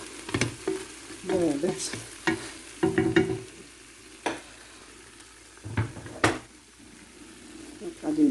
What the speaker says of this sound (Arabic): باش نقليو اللحم